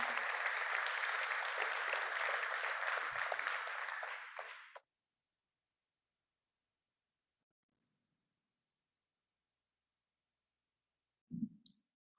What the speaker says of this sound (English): please give a round of applause as she comes here with the benediction